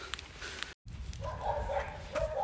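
A dog barks a few times in short bursts, close by, over steady low outdoor rumble and a brief dropout.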